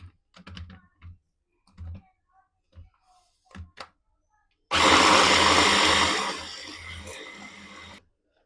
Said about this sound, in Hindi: एक दफ़ा दोबारा से चलाएंगे इसको